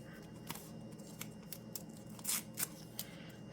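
A chunk of paper torn off a bullet journal page, heard as a short series of quick, close rips and snips over faint background hiss, no voices.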